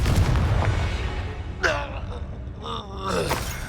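Confringo explosive spell blast in Hogwarts Legacy: low rumbling game ambience, then a sudden whooshing burst with a ringing tail, followed by a second, softer magical flare shortly after.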